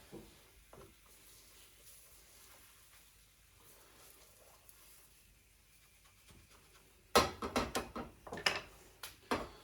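A pancake cooks quietly in a small pan with a faint, steady sizzle, followed near the end by a series of sharp clattering scrapes and knocks as the pan is handled.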